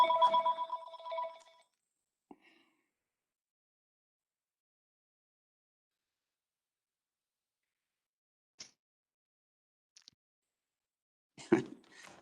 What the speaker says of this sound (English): Hold on, I gotta turn off this phone.